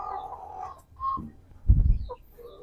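Large Speckled Sussex chicken giving a few separate low clucks and a louder throaty burst near the end, fairly close with a quiet background.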